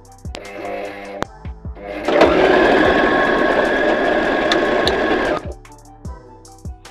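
A domestic sewing machine set to a tight stitch runs in one loud, steady burst of about three seconds, framed by clicks and handling knocks before and after.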